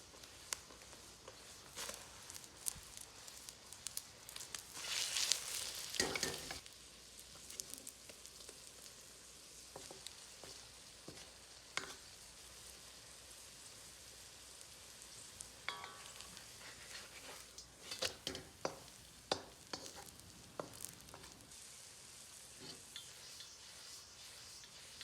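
Shrimp and chicken egg foo young sizzles and fries in a pan, with a steady crackle, occasional scraping and flipping sounds, and louder bursts of spattering oil at intervals.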